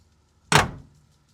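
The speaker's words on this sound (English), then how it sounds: "I'm just going to let this door close." A single solid thud of a 1970 Chevrolet pickup truck door slamming shut, close by, followed by a brief fading rattle and then quiet.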